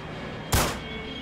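A single sharp gunshot rings out in the Roblox game Plunger Roulette, a loud close crack with a brief tail over a quiet, steady background hum.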